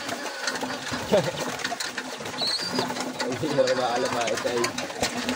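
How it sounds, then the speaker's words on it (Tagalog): Pigeons waiting to be fed coo and flutter in a busy, restless cluster close by, while someone talks over them. "Di ko pa binibigay yung patoka mga kalapatids, pero ayan, nagkakagulo na nga sila."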